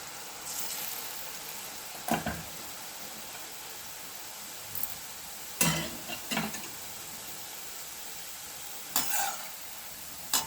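Steady low sizzle of boondi batter frying in oil for Tirupati laddu, with a few sharp crackles and bursts of bubbling spaced through it, close by, no voices.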